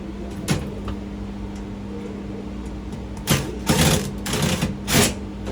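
A Phillips driver backs screws out of a garage electrical panel. There is a faint whir early on, then several short, close mechanical bursts in quick succession near the end over a quiet steady hum.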